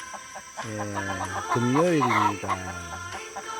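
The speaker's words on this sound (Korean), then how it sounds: "아침에 여기 닭들이 왜 이래 울까요?" Chickens crowing and clucking on a rural farm on a morning, a rooster's loud rising-and-falling crow standing out close by amid several overlapping calls, with a person speaking briefly.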